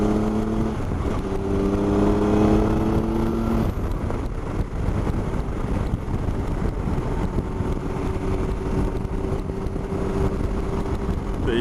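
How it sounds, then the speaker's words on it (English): Riding a Triumph Explorer 1200 motorcycle, a loud rushing roar of wind buffeting blends with a steady engine drone, and the engine tone shifts as speed changes early on. "And not only is it noise, it actually flaps my head around back and forth, buffeting."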